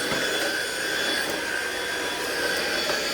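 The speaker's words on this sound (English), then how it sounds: "It's a cordless vacuum." Cordless vacuum cleaner running steadily at close range during household cleaning, a loud, constant whirring roar with a high whine and no breaks.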